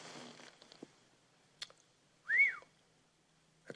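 A person whistles faintly with a single short rising-and-falling whistle, surrounded by soft clicks and rustles in a quiet room.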